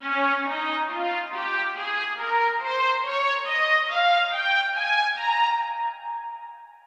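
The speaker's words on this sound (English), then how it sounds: "we have 2 violas again and they sound like this" A pair of violas from Logic's stock instrument library carries a melody, sustained bowed notes gliding steadily upward in a smooth legato line, moderately soft and alone with no talking, fading at the end.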